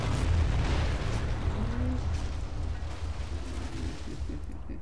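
Anti-tank grenade blast in Men of War: Assault Squad 2, a heavy low rumbling explosion that rolls on and slowly fades, loud and continuous with no clear separate hits.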